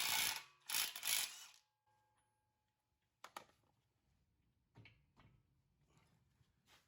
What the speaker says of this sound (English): I'm gonna use an impact to break that one loose